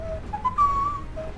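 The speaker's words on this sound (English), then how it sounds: "I was trying to whistle, I was thinking of the windmill song from Legend of Zelda" A person whistles a short melody from the windmill song of Legend of Zelda, a few clear rising and held notes, close and alone.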